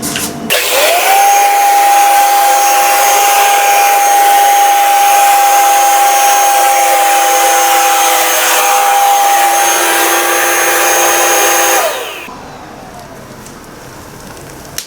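A faulty robot vacuum cleaner with a bad side brush runs loudly and close, a steady roaring whoosh with a high whine holding for about twelve seconds before it cuts off to near quiet.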